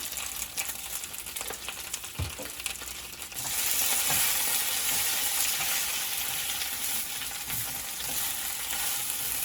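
Leafy greens sizzle and fry in a pan with a sprinkling of taco seasoning. The hiss starts moderate, jumps louder after a few seconds, then holds as a steady close sizzle with faint stirring clicks.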